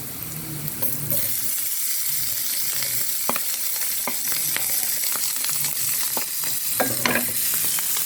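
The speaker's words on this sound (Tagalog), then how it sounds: "Ilagay naman po natin ang mushroom." Mushrooms fry in a pan for creamy mushroom chicken, a loud continuous sizzle broken by repeated stirring scrapes and utensil knocks close up.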